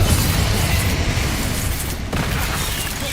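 Booming blasts of the Confringo fire-explosion spell in Hogwarts Legacy, a loud, dense rumble with a sharp renewed burst midway, and no voices.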